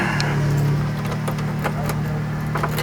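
Keys jangle in short bright clinks near a 1968 Chevrolet Chevelle SS barn find as the ignition is tried, over a steady low engine hum.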